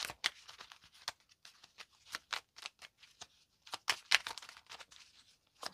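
Oracle cards shuffled during a tarot-style love reading, giving repeated crisp riffles and slaps in irregular bursts, close and fairly quiet, with no voices.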